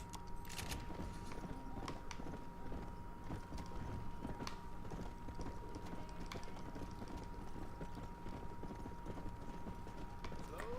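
Steady clip-clopping of horse hooves in Red Dead Redemption, brisk and regular, carries on at moderate volume with occasional clinks and rattles.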